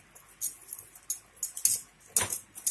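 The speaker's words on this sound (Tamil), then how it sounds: "நான் இஞ்சி சாரில் இந்த பொடிச்ச பவுடரை நல்லா கலக்கிட்டேன்" Ground powder gets mixed into ginger juice for a Deepavali legiyam, with light metallic spoon clinks and quick scraping taps against a bowl in an uneven rhythm, close and fairly quiet.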